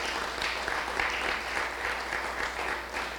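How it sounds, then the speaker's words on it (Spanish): A church congregation applauds together in a steady wash of clapping, fairly faint and distant over a low hum. "dáselo al Señor ese aplauso"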